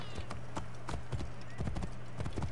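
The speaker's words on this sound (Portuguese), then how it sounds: "eu vou chamar o cavalo, né?" A horse summoned in the video game Assassin's Creed Origins approaches at a steady clip-clop of hooves, with a brief whinny, under quiet game sounds and some talk.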